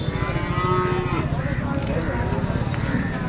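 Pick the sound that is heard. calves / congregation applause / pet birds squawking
calves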